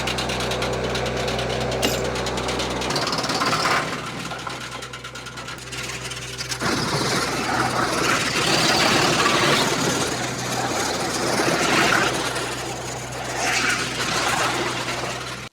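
A steady tractor engine drone drives a wood chipper throughout, jumping to a louder, rougher grinding roar after a few seconds as wood is fed and chewed through.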